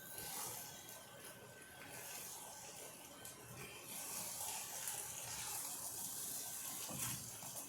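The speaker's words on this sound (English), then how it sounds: "So we put a cup of pasta water in here." Pasta water poured from a cup into a sloppy joe pasta casserole, a soft, faint, continuous splashing gush that swells slightly toward the end.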